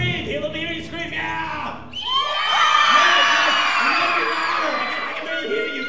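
A large crowd of children screams and cheers at a summer event, the shrill mass of voices swelling after a man's prompt and holding loud and sustained for several seconds.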